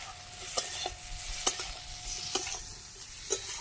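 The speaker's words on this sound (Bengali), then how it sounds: "মশলা ভালো করে কষিয়ে দিচ্ছি" Spice masala with ginger, green chilli, tomato and potato sizzles steadily in a pan while a spoon stirs it, scraping sharply a few times against the pan; close and fairly quiet, with no voices.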